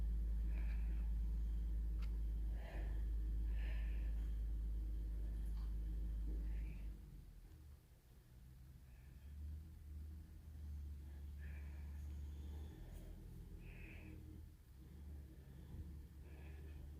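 A truck delivering sand or dirt to a driveway rumbles with a deep engine for several seconds, then settles into a quieter, uneven idle and working drone as the load is flattened out.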